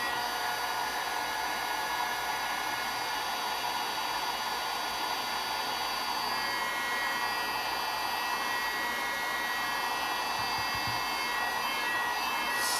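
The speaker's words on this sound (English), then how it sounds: "I'm going to hit it again with the heating tool." A heat gun runs continuously at close range while drying gel stain on DIY fall farmhouse decor, giving a steady loud blowing whine with no pauses or voices.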